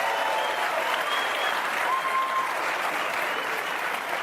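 A large audience at a stand-up comedy show applauds loudly, a dense, steady wash of clapping that stays even from start to finish.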